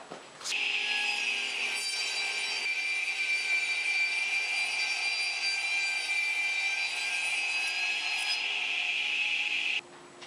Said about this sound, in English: I have a panel raising table that clamps down on top of the regular table of the radial arm saw